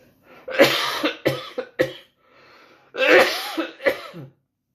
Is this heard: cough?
yes